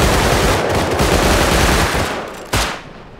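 Sustained automatic gunfire in the video game Rust, a loud rapid stream of shots rattling for over two seconds, then fading before one sharp final crack near the end; no voices.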